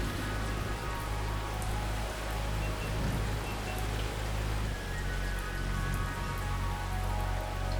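Rain falls on a Hilux with its window wound down, a dense steady patter and hiss that runs unbroken, close and even in level.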